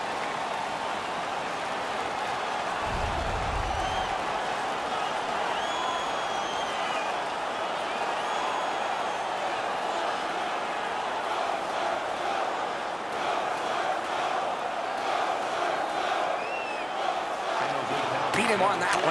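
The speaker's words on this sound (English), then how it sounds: "The home crowd is ecstatic." A hockey arena's home crowd in NHL 16 roars steadily after a fight ends, a dense, continuous wash of cheering and noise with a brief low thump early on.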